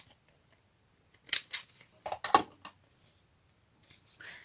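Scissors snip through paper in a crafting project, a few crisp close cuts clustered in quick succession with short pauses, otherwise quiet.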